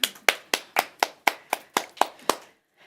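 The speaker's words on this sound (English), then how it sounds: "may we all give Dr. Nhlapo a round of applause" Audience applause at a community trust annual general meeting: about ten distinct, evenly spaced claps in a steady rhythm, fairly close, then stopping abruptly.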